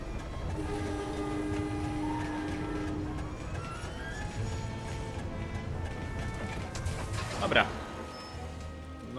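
A train moving in the MediEvil remake video game, rumbling and clattering steadily, with sustained whistle-like tones and a sharp rising screech near the end.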